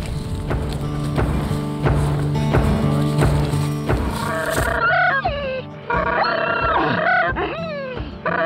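Cranes call during a hunt in West Texas: loud, repeated rattling and croaking calls from several birds overlap continuously, close and dense.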